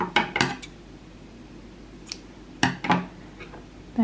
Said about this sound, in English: So I'm going to cut our yarn.